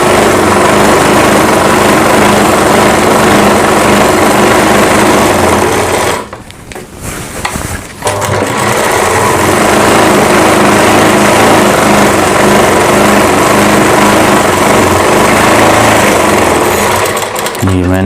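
A sewing machine runs steadily and loudly, stitching a kanchli blouse, with one brief pause and a stutter near the middle before the whirring motor resumes close by.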